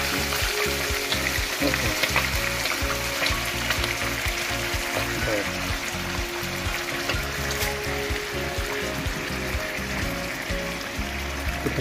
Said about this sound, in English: Okay, so let's fry it. Then you cook beef stick.